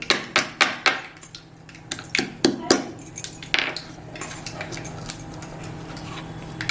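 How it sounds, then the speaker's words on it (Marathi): Garlic cloves, skins still on, being pounded and crushed for a tempering of Masoor dal aamti, a series of sharp close knocks in quick bursts then sparser hits, with no talking. "लसूण आपण घेतलेली ना साला सकट ती आता मी अशी जरा ठेसून घेते"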